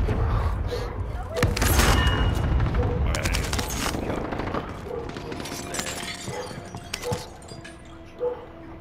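Video-game Street Sweeper shotgun blasts boom and crack in a rapid, loud burst early on, followed by scattered shots and clatter amid game sounds, with a voice talking over it.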